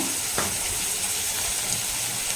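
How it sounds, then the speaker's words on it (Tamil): Chopped onions sautéing in a pan with rock salt for a tomato egg thokku, giving a steady, close sizzle with a brief scrape or clatter early on. "வெங்காயம் நல்லா வதங்கட்டும்"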